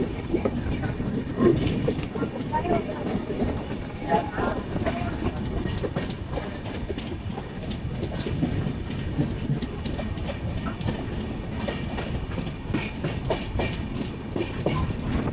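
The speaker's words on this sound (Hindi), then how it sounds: "इटावा से ट्रेन निकल गई है।" A passenger train rolls on after leaving Etawah, heard from inside as a steady rumble with rhythmic clickety-clack of wheels over rail joints, continuous and fairly loud throughout.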